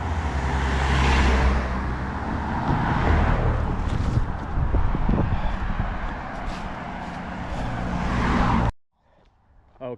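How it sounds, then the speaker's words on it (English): Cars pass on a roadway beside someone walking on the longest day of the year, a loud continuous rush of tyres and engines swelling and fading as vehicles go by close, ending abruptly in near silence. "Car behind me, car in front"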